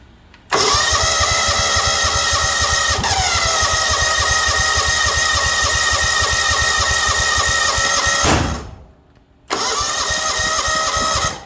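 A John Deere LX277 lawn tractor engine struggling to start with a hand over the carburetor catches and runs loudly for about eight seconds, cuts out briefly, then fires up again.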